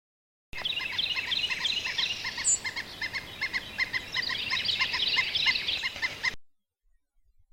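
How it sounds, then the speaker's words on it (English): A downy woodpecker goes about its everyday business with a steady run of soft tapping and clicking notes, while another bird calls repeatedly in the background, fairly clear and continuous for about six seconds. "In this second recording, it's the woodpecker making everyday sounds as it goes about its business, with another bird calling in the background."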